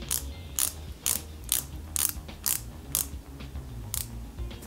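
A screw is driven into the starter of a 1/8 scale Ford Gran Torino model car, giving a run of about ten sharp ratcheting clicks at a steady rhythm, close and fairly quiet.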